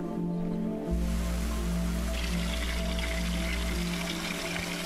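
A water jet in the video game The Gardens Between splashes and pours in a steady, full rush that runs unbroken throughout, with a low hum beneath and no talking.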